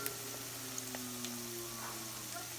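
Mackerel patties frying in a pan give a steady, soft sizzle with faint crackles and pops. The sound is continuous, moderately close and quiet, with no talking.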